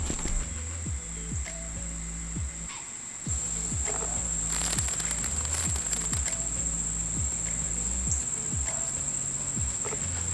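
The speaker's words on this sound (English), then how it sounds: "I'm not sure how or why the cicada is in my compost bin, or in my compost heap." A cicada in a backyard compost heap gives off a continuous high, thin whine while outdoor insects tick and patter in steady repeating pulses nearby.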